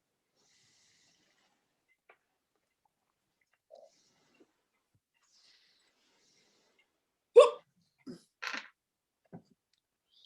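Someone sneezes in a quiet room during a watercolour painting class: a sudden sharp burst after a long near-silence, followed by a few smaller breathy sounds and snuffles.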